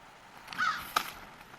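A single crow caws at a distance, followed by a short sharper call, with faint outdoor background.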